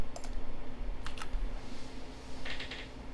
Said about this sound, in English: oh, I'm typing in the bottom